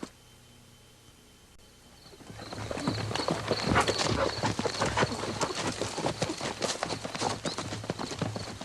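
Steady clip-clop of a horse's hooves fades in after a quiet start, then continues as a fast, even rhythm of close hoofbeats on a hard surface.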